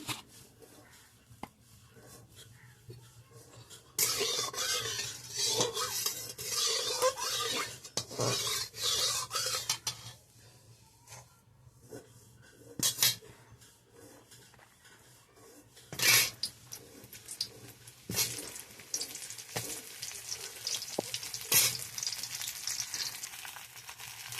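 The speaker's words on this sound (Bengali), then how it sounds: "ঝিঙেটার জন্য প্রথমে পটলগুলো ভাজাবো, এই জন্য তেলটা দিয়ে দিলাম।" Pointed gourd frying in oil gives a quiet sizzle with bursts of louder crackling and scraping from stirring, some sharp spatter pops standing out.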